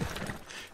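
Horse hooves clip-clopping in Red Dead Redemption 2, a short run of soft, fairly close steps with no talk over them.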